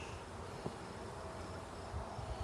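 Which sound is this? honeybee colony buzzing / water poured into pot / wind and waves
honeybee colony buzzing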